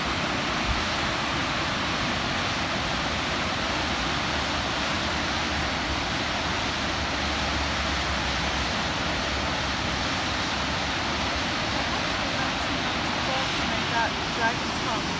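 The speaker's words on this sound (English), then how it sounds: "This is Gibbon Falls" Gibbon Falls waterfall on the Gibbon River in Yellowstone, a loud, unbroken broadband roar of falling water, steady and close throughout.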